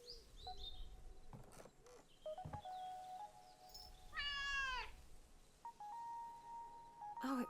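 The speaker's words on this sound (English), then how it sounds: "Oh, it must be Nora's cat." A cat meows once, a clear rising-and-falling cry standing out from a quiet game soundscape of soft chirps and faint tones in the Dordogne video game.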